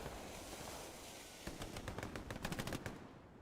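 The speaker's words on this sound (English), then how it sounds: "MG42 at the ready" An MG42 machine gun firing in a World War II shooter: after a low rumbling battlefield bed, a rapid rattling burst of shots with an even, fast rhythm, fairly close and loud, ending in a brief tail.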